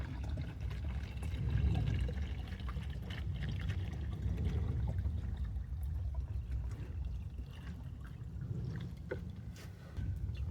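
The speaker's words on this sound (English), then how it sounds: "I'm going to transfer all this water into a different bottle because I'd just rather have this container." Drinking water being poured from one container into another bottle, a steady low gushing trickle that runs continuously and fairly close, with no talk.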